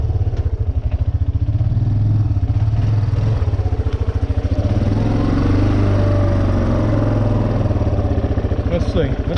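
A Yamaha 350 motorcycle engine, newly fitted with a carburetor and throttle cable, runs steadily close by with a fast, even putter and a slight rise in revs, loud and continuous with nothing talking over it.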